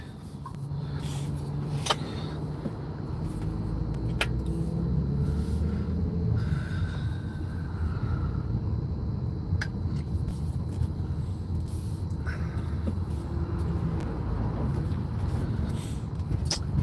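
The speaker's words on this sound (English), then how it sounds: "Toronto traffic." Toronto road traffic heard from inside a car driving home, a steady low rumble of engine and tires with occasional passing vehicles, faint and continuous with no talking.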